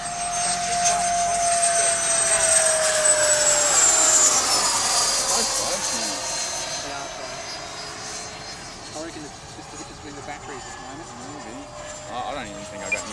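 Electric ducted-fan RC model jets, including an Avanti with an 80 mm 12S fan and a Stinger with a 90 mm fan, make a sustained whooshing whine that rises and falls as one passes fast overhead. Voices talk throughout.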